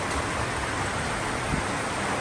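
Heavy rain falling over rice fields during a thunderstorm, heard as a steady, dense broadband hiss that holds at the same level throughout, with no voices.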